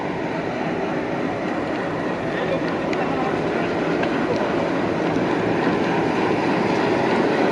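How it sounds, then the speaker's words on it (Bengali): WDM3D American-built broad-gauge diesel locomotive, number 6541, arriving at Ishwardi Junction during a locomotive change, a steady dense rumble of engine and rolling stock throughout. "প্রবেশ করছে আমাদের নতুন লোকোমোটিভ। এটা 6541 সিরিজের একটি লোকোমোটিভ।"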